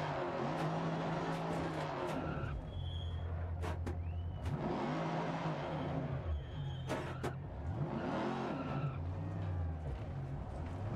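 A rally car engine in the Dirt Rally 2.0 racing game revs hard and loud, its pitch sweeping up and down repeatedly through gear changes, with brief tyre and gravel noise between surges.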